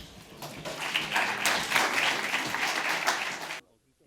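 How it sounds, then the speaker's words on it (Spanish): Audience applause at a panel discussion on the Eurofighter, clapping steadily for about three and a half seconds before stopping abruptly. "Un aplauso."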